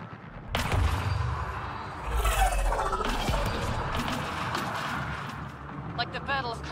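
Video game gunfire and artillery blasts boom and crackle in heavy, overlapping bursts, with voices shouting over the fighting.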